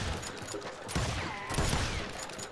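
Rapid bursts of gunfire ring out in the video game Call of Juarez: Gunslinger, a loud, dense volley of shots that swells twice in close succession.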